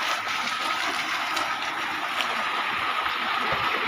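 Water gushes steadily from a borewell motor pump outlet at a Gujarati farm, a constant broad rushing flow close by with no voices over it.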